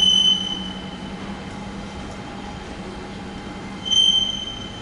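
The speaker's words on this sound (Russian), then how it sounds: "Ну и вот очередной мой поезд." A German passenger train rumbles steadily with high metallic wheel squeal ringing over it, heard up close, and the squeal swells louder briefly near the end.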